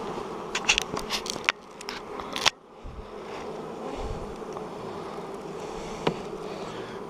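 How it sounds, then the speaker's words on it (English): A dense, steady drone of many bees buzzing from a box of honeybees after their honey is taken, with a few sharp clicks and knocks early on and no talking. "Box of bees here, it looks like"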